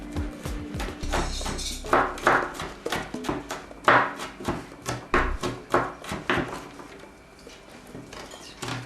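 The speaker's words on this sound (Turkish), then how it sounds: "Sarımsakların kabuklarını soyduk. Biraz iri şekilde doğrayacağız." Garlic cloves chopped coarsely with a knife on a cutting board, giving a run of close, crisp knife taps at an uneven rhythm that thin out toward the end.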